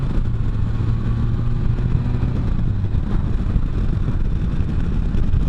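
A Can-Am Spyder F3 three-wheeled motorcycle accelerates and shifts on an open road, a loud, rumbling engine note rising with throttle and dipping at gear changes, mixed with rushing wind.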